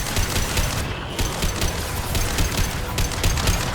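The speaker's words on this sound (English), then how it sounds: "Firing an impact shot" Rapid, dense gunfire crackles nonstop during combat in the game Mass Effect 2, loud and close, with no voices over it.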